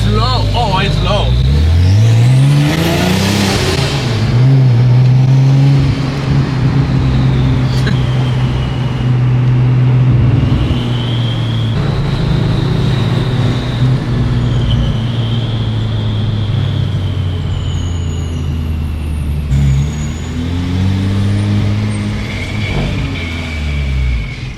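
A straight-piped Ferrari 348 engine drives through Miami streets, its loud, raspy exhaust note rising and falling through revs and shifts, close and continuous, with people talking over it.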